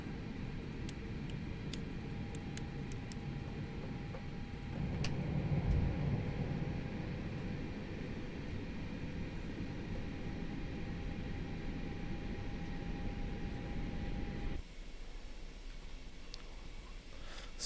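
Airbus A320 engines in a flight simulator spool up for takeoff as a steady broad roar that swells midway and holds, with a thin rising whine above it, before the sound drops abruptly near the end.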